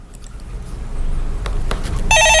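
A telephone rings on a Korean stock-market call-in radio show, a bright trilling ring cutting in near the end over a rising hiss of studio background, loud and close, with no talking.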